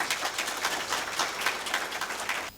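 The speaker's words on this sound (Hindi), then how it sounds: "सबके लिए एक बार जोर से ताली बजाइएगा।" An audience applauds after a student play about soil health at the University of Patanjali, a steady, dense wash of many hands clapping that continues evenly for a couple of seconds and then cuts off.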